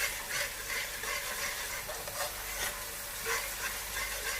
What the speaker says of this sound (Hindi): अब हम इसमें अदरक लहसुन का पेस्ट ऐड करेंगे। इसे भी अब हम फ्राई करेंगे इसके साथ।